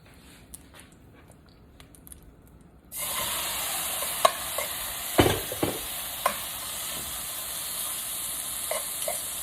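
Shrimp hit a hot pan partway in, and a steady loud sizzle follows with repeated scraping and clatter of stirring; before that only faint quiet kitchen sounds are heard.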